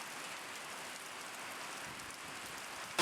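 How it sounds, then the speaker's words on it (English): Rain drumming steadily on a metal building, a dense even patter heard from inside at moderate level, with a brief louder knock at the very end. "The rain's moved in and I'm in a metal building, so it's not the greatest."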